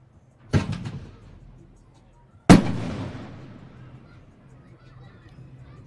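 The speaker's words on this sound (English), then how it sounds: "And the Patriots firing off the cannon." Cannon fired twice at a youth football game, two loud sharp booms a couple of seconds apart, each ringing out in a long decaying echo across an open field.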